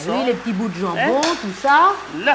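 Lamb navarin with carrots, tomatoes and bits of ham sizzles and crackles steadily in a pan while it is stirred, mostly under a voice talking close by.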